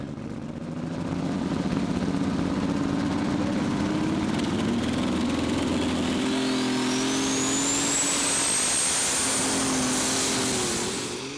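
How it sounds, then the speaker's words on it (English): An International 1066 superstock pulling tractor at a tractor pulling event in Herning, Denmark, its engine droning loud and steady as it builds pressure, with a rising high-pitched whine climbing over the roar. "It's an International 1066. Building up the pressure."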